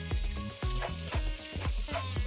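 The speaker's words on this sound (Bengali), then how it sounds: "এগুলো আমি উল্টে পাল্টে ভালো করে নেড়ে চেড়ে একটু ভেজে নিব" Chicken for a Mughlai-style dish sizzles steadily on a hot tawa, with a rhythmic series of scraping stir strokes as the pieces are turned, loud and close with no talking.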